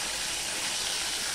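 Pomfret fish frying in hot oil, giving a steady, even sizzling hiss that holds close and constant throughout, with no voices.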